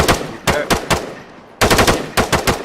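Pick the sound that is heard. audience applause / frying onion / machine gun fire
machine gun fire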